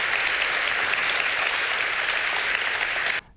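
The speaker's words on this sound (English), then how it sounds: "let's give a big applause and a big thank you for Ekaterina Schulmann" Audience applause rolls in thick and even for about three seconds, then cuts off abruptly into near silence.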